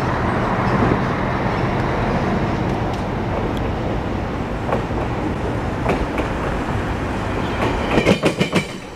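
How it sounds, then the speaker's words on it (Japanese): A Meitetsu train rumbles steadily over a flat railway diamond crossing, recorded from trackside outside, with wheel clatter and a burst of rapid rhythmic clicks near the end as the wheels strike the crossing. "先ほど渡った平面交差を今度は外から音を聞いてみます。"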